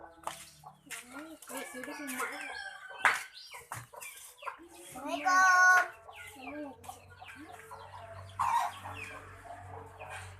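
A talking bird repeats a spoken greeting in a voice-like squawk, with clucking fowl and other farm birds mixed in nearby, the mimicked phrases coming in short bursts.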